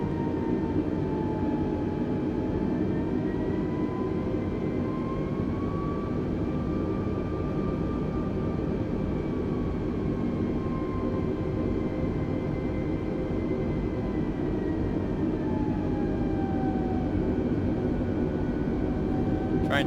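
Airbus A320 jet engines at low taxi thrust in a flight simulator: a steady, continuous loud drone with slowly wavering whine tones sustained throughout, no talk.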